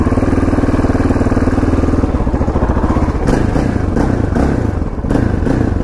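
A KTM LC4 640 single-cylinder motorcycle with its stock exhaust runs close by, a steady loud thumping idle with a few sharper blips of throttle near the end.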